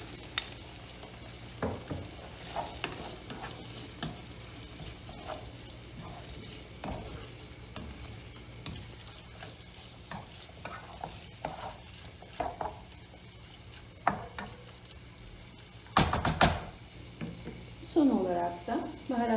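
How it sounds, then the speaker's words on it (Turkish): Boiled peas tumbling into a pan of sautéed tomato paste, with soft stirring scrapes and a low sizzle of frying running throughout, plus a few sharper clatters near the end. "Salçamı da kavurdum ve bir çay bardağı haşlanmış bezelyemi ekliyorum."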